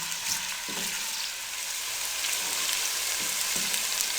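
Masala and onions sizzle in a pan over a low flame, a steady bright crackling hiss with occasional soft clinks of a stirring spoon, close and alone without any talk.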